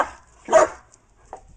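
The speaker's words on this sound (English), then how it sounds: "stop letting him bark" A dog barks at home during a family reunion, one loud close bark followed by a short faint yip.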